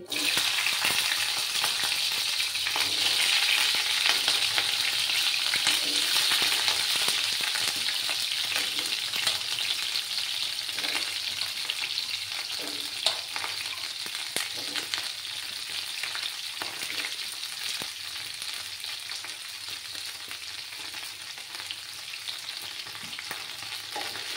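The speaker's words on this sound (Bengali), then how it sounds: "এবার চুলার আঁচটাকে কমিয়ে আমি ফুলকপিগুলো দিয়ে দিচ্ছি।" Cauliflower florets fry on low heat in a pan for a milk-based gobi curry, giving a steady, dense sizzle with frequent scraping stirs throughout; no voices.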